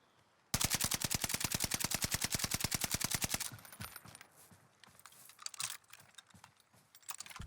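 Gunfire in the video game Call of Duty Warzone: a fast sustained burst of rapid, loud, evenly spaced shots for about three seconds, then scattered quieter shots and clatter.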